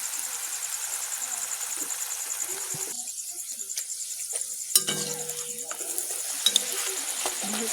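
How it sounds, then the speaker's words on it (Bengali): Luchi, a puffed flatbread of mixed atta and maida dough, frying in hot oil, a steady hiss and sizzle with a few sharp spatters and pops, birds chirping faintly in the background. "গরম হয়ে গেছে লুচি দিচ্ছি তেলে"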